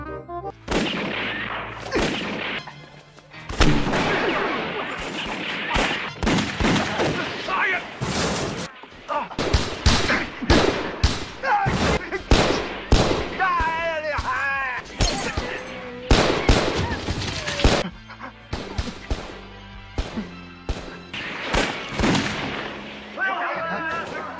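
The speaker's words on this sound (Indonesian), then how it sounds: "Kakui yang tahu segera menghentikan aksinya dan tak lama terjadilah baku tembak." Gunfire in a Police Story shootout scene, with loud repeated shots and bangs in dense bursts over most of the clip, mixed with film soundtrack and voices.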